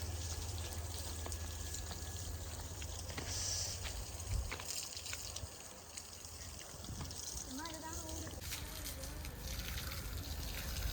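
Water sprays and splashes at a farm in a continuous hissing gush, with people talking over it and a few brief bird-like chirps partway through.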